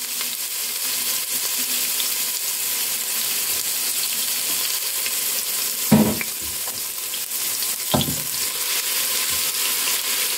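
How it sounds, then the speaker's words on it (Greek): Finely chopped onion fries with octopus in a hot pan, making a constant loud sizzle. Two short stirring or scraping knocks break in partway through. "Θα βάλουμε το κρεμμύδι που έχουμε ψιλοκόψει."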